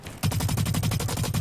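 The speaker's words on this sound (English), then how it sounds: "I hear some gunshots." Rapid automatic gunfire in a video game, a fast even burst of shots close and loud after a brief quiet start.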